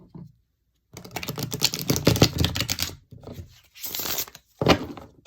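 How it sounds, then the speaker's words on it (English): Tarot cards are shuffled by hand, giving bursts of rapid riffling and flapping separated by short pauses, close and crisp, with a final quick riffle. "One more shuffle it is."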